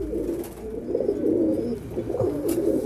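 Pigeons coo repeatedly at close range in a rooftop pigeon loft, a steady low rolling burble with no talk over it.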